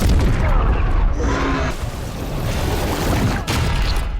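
A bomb blast from a Mandalorian film, a loud booming rumble with crashing debris that rolls on for several seconds, with a second thump near the end.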